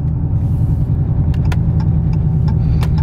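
A supercharged Hellcat muscle car engine with over 800 wheel horsepower rumbles steadily and loudly under acceleration with a deep, low drone, and a few faint clicks surface above it.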